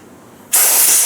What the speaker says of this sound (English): just blowing them off with compressed air